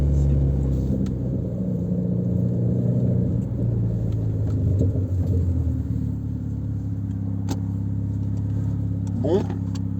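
A Renault Clio 4 RS engine and exhaust rumble at close range with a low, steady drone and occasional pops, while someone talks over it.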